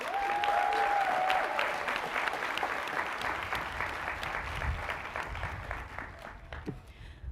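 An audience at a graduation ceremony claps in sustained, dense applause that slowly fades. A brief tone is heard near the start.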